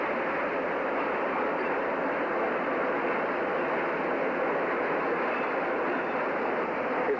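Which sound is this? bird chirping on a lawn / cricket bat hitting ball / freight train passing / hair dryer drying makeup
freight train passing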